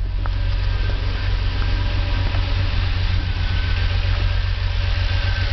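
DeLorean engine fitted with Megasquirt fuel injection idling smoothly at about 1,000 RPM, a steady, loud, even low rumble with no variation throughout.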